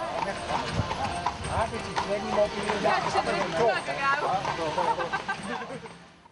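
Horse-drawn carriage at the EXPO.02 exhibition in Morat, hooves clip-clopping in a steady rhythm on pavement throughout, with a voice talking over the top.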